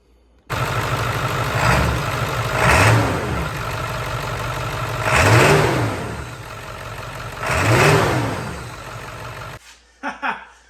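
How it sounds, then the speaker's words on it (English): A 7.3 Powerstroke diesel truck engine running in a garage, idling loudly up close and revved three times in smooth rising and falling swells before cutting off abruptly. "I'm going to start it, let it warm up for a little bit, and then we're going to rev it up"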